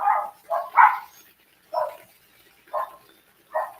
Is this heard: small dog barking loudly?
yes